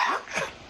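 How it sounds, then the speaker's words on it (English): An Australian Shepherd puppy gives one short, close, husky cough, heard alone. "She's coughing pretty much every other minute."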